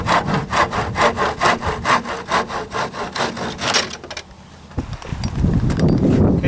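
A handsaw cuts through a wooden trim board in steady, rhythmic strokes, loud and close, ending at about four seconds; the board then knocks and rubs as it is handled afterward.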